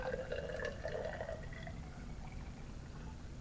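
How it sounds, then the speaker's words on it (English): Potassium iodide solution is poured into a glass test tube in a school lab, giving a soft, close trickle with faint ringing tones that fades after about a second and a half into quiet room noise. "I'm going to pour some potassium iodide solution in."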